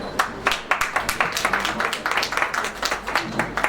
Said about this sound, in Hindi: एक बार फिर तालियों के साथ हम अभिवादन करें।